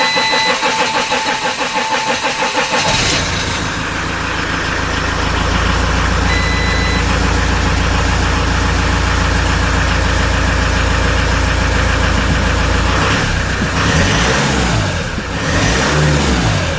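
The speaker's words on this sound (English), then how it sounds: "So as you can hear, the engine is running." A RAM ProMaster 3.0L van engine with low power in limp home mode cranks and catches after a few seconds, then settles into a loud, steady close-up idle with a couple of brief revs near the end.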